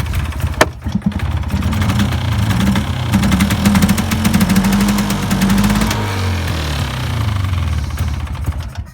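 A 1997 Polaris Explorer ATV with a two-stroke engine fires up and settles into a steady, fairly loud idle, its rough mid-pitched rumble holding throughout with no one speaking.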